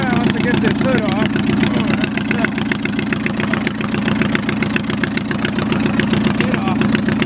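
A 4x4 lawn tractor engine runs at a steady, rapidly pulsing idle close by, loud and continuous, with someone talking over it.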